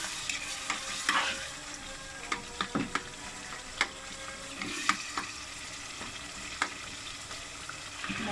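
Minced meat fries with yogurt in a pan over a high flame, giving a steady sizzle broken by repeated stirring scrapes and clacks throughout.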